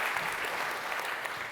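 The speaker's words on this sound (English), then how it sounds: "Let's give a round of applause." Steady audience applause at a fireside chat, a dense, even wash of clapping that fills the whole short stretch at moderate loudness with no voices on top.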